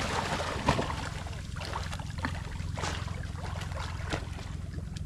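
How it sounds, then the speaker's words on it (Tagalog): Heavy rain pours down steadily during a storm, a dense broadband hiss with scattered louder splashes and a low rumble underneath, no talk. "Lah, lakas ng ulan mga idol."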